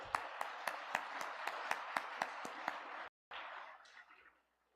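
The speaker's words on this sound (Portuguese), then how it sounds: "Uma salva de palmas para o nosso expositor" An audience at a Spiritist conference gives a crisp round of rhythmic clapping, a dozen or so sharp, evenly spaced claps in a hall, cut off abruptly, then a fading roomy tail.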